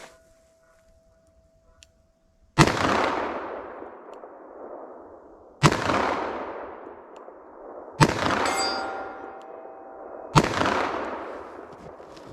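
A Smith & Wesson Model 69 Combat Magnum revolver fires PMC 180 grain Magnum rounds: four loud, sharp, separate shots a few seconds apart, each followed by a long ringing decay outdoors, with quiet stretches in between.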